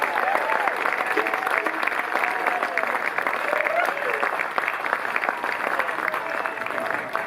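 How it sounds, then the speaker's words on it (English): Dense, sustained audience applause at a bluegrass concert, loud and steady throughout, with a few voices calling out over the clapping. "How about a round of applause for everyone helping to make this happen?"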